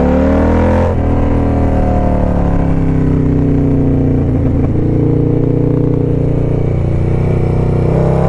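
A car engine revs hard in first gear on a road drive, a loud, steady drone with rising and falling pitch throughout and no voices.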